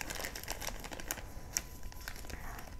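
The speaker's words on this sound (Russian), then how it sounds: "Плотненький пакетик." A dense plastic packet holding seed granules crinkles and crackles in close, uneven bursts of rustling, with a few sharper crackles standing out.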